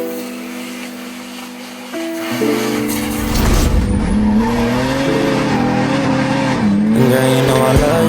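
A drift car sliding with tire squeal and a loud revving engine, a continuous high screech and engine roar over about eight seconds under music.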